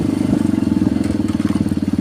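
A motorcycle rides along a rural road, its engine putting out a steady, close, rapidly pulsing drone that holds for the whole stretch with no talk over it.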